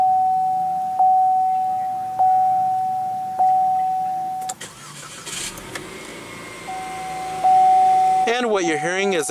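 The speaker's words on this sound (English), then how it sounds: "And what you're hearing is a 2-liter turbo 4-cylinder." A 2015 Chevrolet Malibu with a 2.0 L turbo four-cylinder: a steady chime beeps in the cabin, then the engine cranks, catches and settles into a smooth, close idle as another tone sounds.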